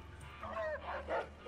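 Rex, the dog in Fallout: New Vegas, gives a few short, moderately faint barks and yips in quick succession over a low background hum.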